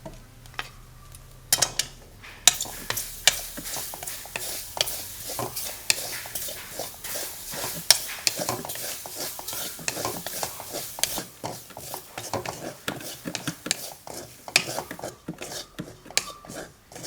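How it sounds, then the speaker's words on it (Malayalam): Ground coconut being lightly roasted in a pan, a spoon stirring and scraping against the metal in irregular quick strokes, with soft clinks, fairly quiet and close, with no talking. "തേങ്ങ ചെറുതായിട്ടൊന്ന് വറുത്തെടുക്കുക."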